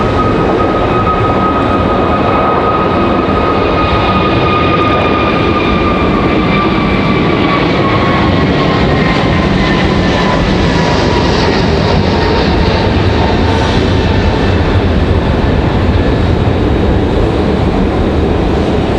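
A Frontier airliner roars through its takeoff run at Raleigh-Durham International Airport, a loud, sustained jet rumble with a high whine that slowly falls in pitch as the aircraft moves away, heard alone from start to finish.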